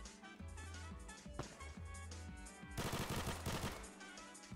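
Gunfire in a Roblox war game, rapid bursts of automatic shots repeating over several seconds, dense and loud, with a heavier burst near the end.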